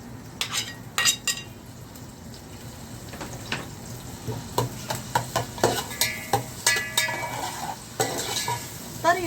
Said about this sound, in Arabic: راح انزل عليه البصل اللي عندي